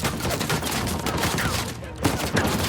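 Rapid turret gunfire rattles in a dense, continuous burst during an Uncharted 4 firefight, loud and close, with a brief break near the end before more shots.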